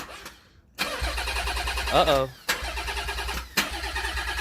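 Nissan 300ZX engine cranking over repeatedly in bursts without catching, close and fairly loud, with a short pause between attempts and a voice speaking briefly.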